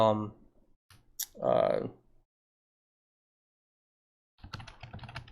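Rapid clicking of keys typed on a computer keyboard, heard as a short burst near the end after a couple of brief voice sounds and a stretch of silence.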